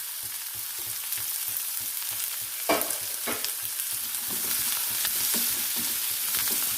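Onion, green chilies and curry leaves fry in a pan for an eggplant stir-fry, giving a steady close sizzle with periodic stirring scrapes and a sharp clatter partway through.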